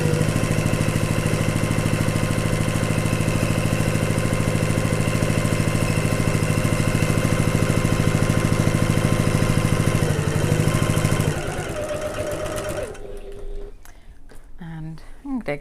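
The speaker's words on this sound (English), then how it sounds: "So we're going to sew 1/8 of an inch or 3mm away from the top edge." A sewing machine stitches a bag casing an eighth of an inch from the top edge, its motor droning loud and steady for about eleven seconds before stopping, followed by light handling clatter.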